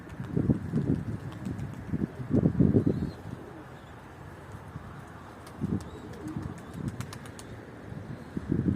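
A domestic tumbler pigeon flaps its wings in several loud, close bursts of rapid beating separated by quieter gaps, with faint cooing and chirps in the background.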